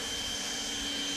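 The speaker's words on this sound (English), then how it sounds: "I grab the handheld blower, and again, it's all battery, nice and quiet." A battery-powered handheld leaf blower blows debris on a lawn, a steady close whoosh with an even electric whine, constant and unbroken, with no one speaking.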